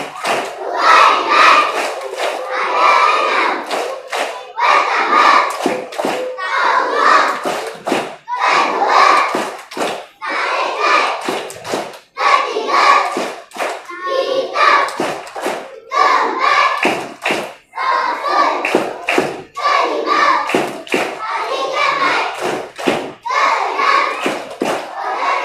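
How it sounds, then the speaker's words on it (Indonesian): Children chant a rhythmic Islamic pillars-of-faith clapping song together, loud sharp hand claps punctuating their voices in repeated short bursts and pauses, a lively group call-and-response sound. "Anak-anak Siti, tepuk-tepuk rukun iman."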